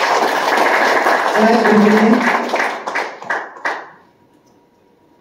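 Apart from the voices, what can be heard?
audience applause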